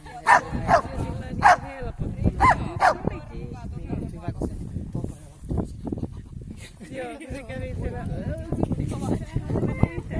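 A dog gives several sharp barks and yips early on, followed by whimpering and other dog sounds, with people talking throughout.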